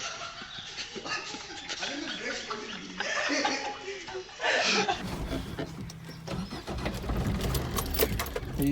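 A car engine cranks and starts in gear with the clutch held, then keeps running with a rough rumble while people talk loudly over it and a dog is heard.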